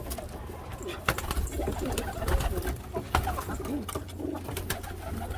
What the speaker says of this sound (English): Look at all those birds. Aren't they beautiful?